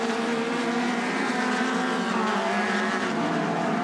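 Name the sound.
race cars on a dirt track during a Sportsman race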